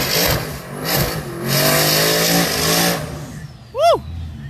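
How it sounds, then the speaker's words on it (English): Twin-turbo car and a Mustang doing burnouts at a track, a loud sustained engine roar with tire noise that surges and fades, followed by a brief sharp rev and a whooshing pass near the end. "Let's see these burnouts."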